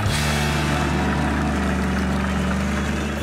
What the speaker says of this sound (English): Oh, monster trucks in the dirt. Oh, can you hear their engines are roaring so loud?